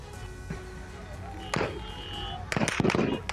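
Police gunfire at thousands of Baloch protesters marching toward Gwadar, a scatter of sharp cracks in loose bursts, some single and some in quick clusters, with crowd voices and shouting around them.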